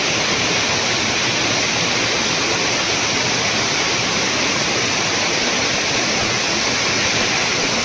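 Fast, high water pours along a stream in a steady, hissing roar that holds constant and close throughout, with no voices.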